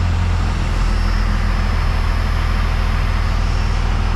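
A first-generation Dodge Cummins diesel truck engine idles loud and close after revving, settling back down into a steady, throbbing low rumble with no voices over it.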